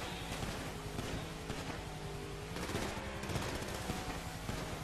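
Rapid automatic gunfire from an Uzi submachine gun in GTA Online, dense rattling bursts continuing loudly through the clip over a busy game soundscape, with no speech.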